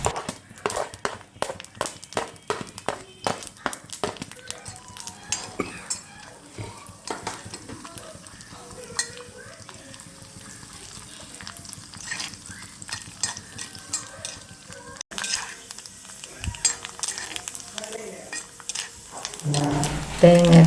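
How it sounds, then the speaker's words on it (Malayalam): Coconut pieces fry in ghee in a pan, with a soft sizzle under repeated sharp clacks and scrapes of a spoon stirring against the metal, while a voice speaks intermittently. "ഇനി ഇതിലേക്ക് നമുക്ക് കുറച്ച് തേങ്ങാക്കൊത്ത് ഒന്ന് വറുത്തെടുക്കാം."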